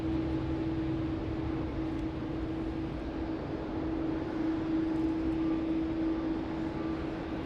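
Steady, distant jet engine roar of an aircraft landing at Sydney Airport, a continuous even hum with a sustained tone and no talk over it.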